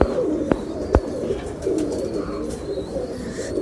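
A Sialkoti chuha pigeon, a cross with chuha blood, coos in steady low rolling phrases close by, with a couple of sharp taps and no speech.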